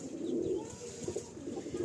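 Soft low cooing from a deep-eyed pigeon with a clear eye ring, one of a breeding pair brought from Chennai, repeating in gentle murmurs close by under faint background hiss.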